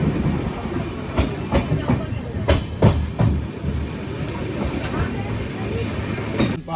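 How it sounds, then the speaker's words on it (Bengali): A passenger train pulling into Sasaram station, wheels clattering in uneven clacks and thumps over rail joints under a rumbling carriage din, heard from inside at close range. "এখন কি সাসারাম, হ্যাঁ ওই স্টেশনই হবে, ওখানে দাঁড়ালো ট্রেনটা"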